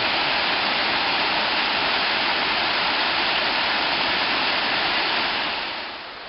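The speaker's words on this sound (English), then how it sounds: "Pretty good sized creek, old Rock Creek. Probably three times as big as it should be this time of year." Little Rock Creek running high and swollen, a loud, continuous close roar of rushing water that fades slightly at the end.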